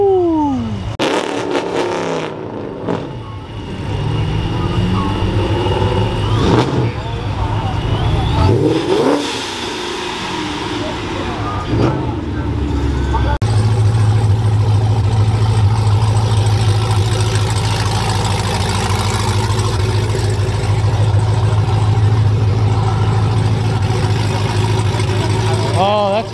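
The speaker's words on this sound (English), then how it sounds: "We got a boosted Mustang on some welds rolling in." A boosted Ford Mustang engine rumbles and revs loudly nearby at a street car event, building to a steady, heavy drone, with people talking over it at times.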